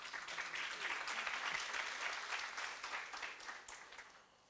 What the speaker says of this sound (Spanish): ¿Quién aplaudió?